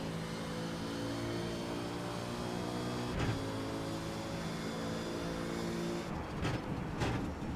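Race car engine in the iRacing simulator, a sustained droning whine with shifting pitch, briefly cut by a couple of gear-change blips and revs toward the end.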